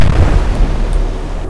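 A naval gun fires in the naval warfare game Atlantic Fleet, a loud, rumbling boom that fills the short moment with heavy low-end blast and no voices.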